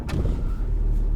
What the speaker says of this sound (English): but first we'll start the engine.